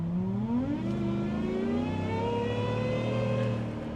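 A supercharged Ford F-150 Shelby truck engine revs up, the rising whine and exhaust roar climbing steadily in pitch over a few seconds, loud and close with no talk.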